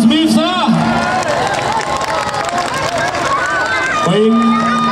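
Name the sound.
applause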